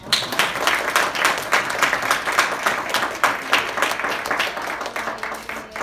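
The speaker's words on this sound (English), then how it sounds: "Round of applause for Rachel" An audience at a talk gives a sustained round of applause, dense overlapping claps rising quickly and holding steady, then thinning slightly toward the end.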